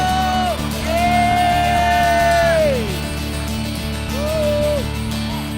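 A church congregation at a praise service shouts out loud, sustained cries to the king, voices rising and falling in long wavering calls over steady background music.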